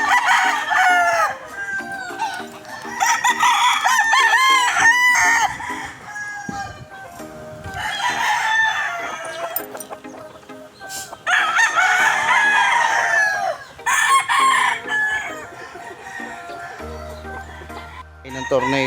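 Tornado hatch gamecock roosters at a gamefarm in Bacoor, Cavite, crowing loudly and repeatedly, several overlapping cock-a-doodle-doo calls with clucking between them and occasional voices nearby.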